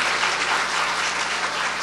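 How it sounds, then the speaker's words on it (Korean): A church congregation gives warm, sustained applause after a worship song, an even wash of many hands clapping at moderate volume throughout, with no voices standing out. "뜨거운 박수 부탁드릴게요"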